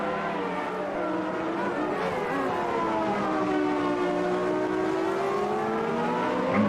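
Formula One cars from the McLaren Honda and Williams era race around Interlagos in the Automobilista 2 game, with a loud, continuous high-revving engine scream that sweeps down and back up as a car brakes and accelerates through a corner.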